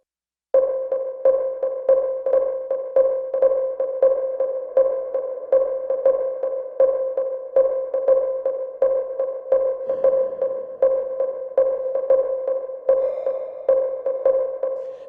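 An Elektron Digitakt synth pattern in dotted sixteenth notes, with delay set to barely any feedback and a touch of reverb, repeats as steady rhythmic pulses that run evenly throughout at a moderate level.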